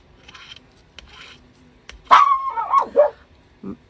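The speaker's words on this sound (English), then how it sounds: "Don't mind my dog. She's a little dramatic sometimes." A female pet dog lets out a drawn, whining yelp that rises and falls, then a short sharp bark, close by in a quiet room.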